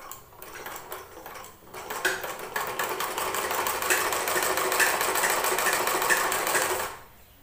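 A sewing machine stitches lace onto fabric, starting with a few short bursts of needle clatter and then running in one steady, fast, close-up rattling stretch for several seconds before stopping.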